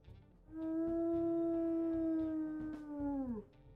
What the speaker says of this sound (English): We'll also go ahead and we'll listen to her howls here.